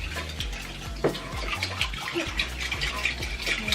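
Homemade slime being whipped with a fork, giving wet squelching and clicking strokes in a quick repeated rhythm, close and moderately loud, with no talking.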